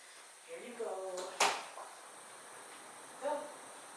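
A door opens in a home to let a dog outside, a single sharp clack followed by a faint later bump, while a person talks nearby.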